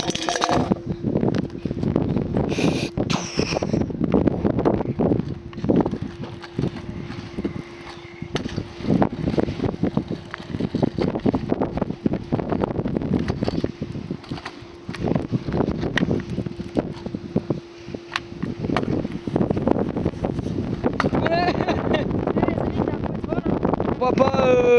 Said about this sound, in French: désolé pour le vent, mais on est en fin de tempête.